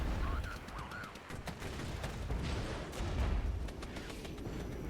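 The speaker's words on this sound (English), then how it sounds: "I'm going to try to hit the rear of the T-80BVs with the Bradleys" Bradley vehicles fire on T-80BV tanks in the war game Regiments, a dense, continuous barrage of rapid gunfire and booming impacts that sounds close and loud throughout, with no voices.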